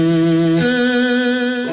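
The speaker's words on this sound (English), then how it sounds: "there's the fuzz box, which sounds like this" A sustained organ tone played through a fuzz box, with a buzzy, distorted edge, holds one note, then shifts to another, thick with harmonics and no talking.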